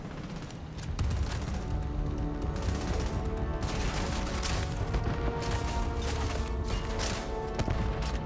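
Sustained automatic gunfire in the video game Starfield, a dense stream of rapid shots that starts after a brief lull and runs on with booms and clatter, close and loud.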